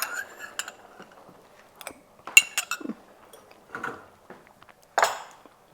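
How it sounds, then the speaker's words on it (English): Spoon stirring beef rogan josh in a pot, with scattered clinks and scrapes of metal against the pot, irregular and close, separated by short quiet gaps. "let's get this stirred up"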